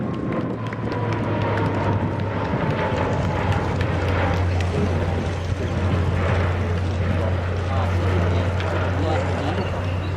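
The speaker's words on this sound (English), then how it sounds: "What a great demonstration there. Beautiful aircraft" Aircraft engine drone from a flying display at RAF Base Richmond air show, a steady loud low hum with a faint descending whine, partly masked by a public-address commentator talking throughout.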